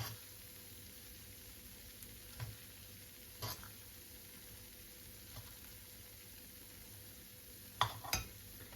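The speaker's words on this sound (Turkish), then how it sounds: "İyice görün diye karıştırıyorum" A mixture of potato, kasar cheese and egg is stirred in a pan. Soft sizzling runs throughout, broken by a few scattered utensil scrapes and clinks against the pan, close and quiet, with no talking.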